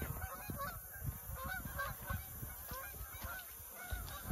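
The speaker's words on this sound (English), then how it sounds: "we got geese flying all over the place" Geese honking as they fly overhead outdoors, a dense, continuous chorus of many overlapping calls heard over steady background noise.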